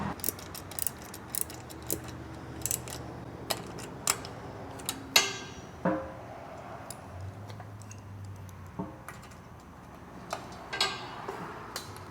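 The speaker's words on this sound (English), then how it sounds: "I'm gonna hold it right here and tighten these two down, and then put some pressure on it and tighten the middle mount" Mounting bolts on a DRIFTR roof rack for a 2025 sixth-generation Toyota 4Runner are tightened with a hand ratchet, giving quiet, close, irregular clicking bursts and occasional metallic knocks, with no talking.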